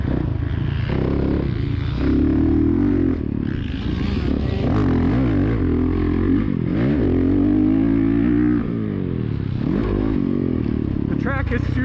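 Motorcycle riding laps at Aztec Raceway on a choppy track, with a close, steady engine drone rising and falling through revs and a voice talking over it throughout.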